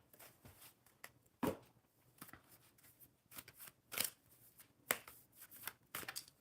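Quiet riffling and slapping of a deck of cards shuffled for a card reading, in irregular short bursts with soft pauses between, close and faint.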